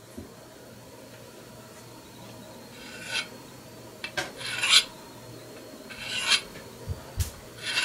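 An axe edge is lightly honed on both sides to remove the burr, heard as a few short, soft scraping and rasping strokes close by over a quiet background.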